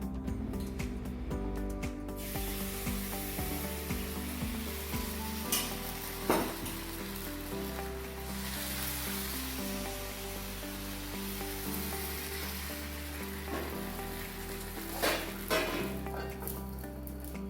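Appam batter sizzling in a hot pan for a Kerala breakfast, a steady soft frying hiss with faint clinks of utensils, continuous and fairly quiet throughout.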